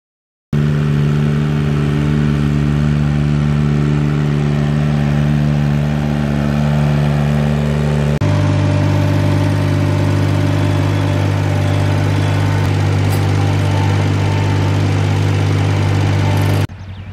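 Big Red, a tractor, runs its engine steadily and close while the mower is swapped for a bucket, a loud droning hum that shifts pitch partway through before cutting off near the end.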